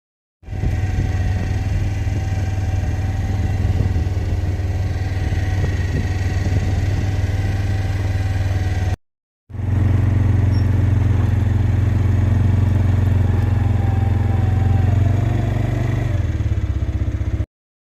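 An ATV engine rumbles steadily as it drives into a maple grove in the sugar bush, towing a loaded sled with boxes on its front rack; loud, close and continuous, with a brief cut midway.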